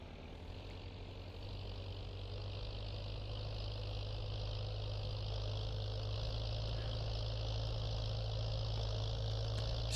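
Steady engine drone of a tractor in Farming Simulator 19, running continuously with a strong low hum at a constant, even loudness and no talk over it.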